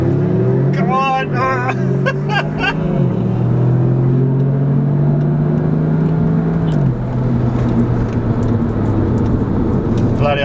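A 2018 Audi S3 and a Stage 3+ tuned 2017 Golf 7R launch hard from a standstill, engines revving loud and close with rising, shifting drone over several seconds, while people shout excitedly over the noise.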